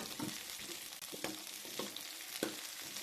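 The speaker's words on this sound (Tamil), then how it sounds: "முழுசாக தக்காளி பழத்தை போட்டு அப்படியே எண்ணெயில் நல்லா வதக்கணும்." Whole tomatoes sautéing in oil for a cauliflower gravy give a soft, continuous sizzle punctuated by a few light scraping stirs, faint and even.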